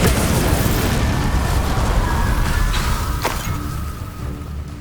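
A Confringo spell explosion in Hogwarts Legacy bursts into a loud, dense roar of combat noise that holds for seconds, with a sharp crack and fading rumble toward the end.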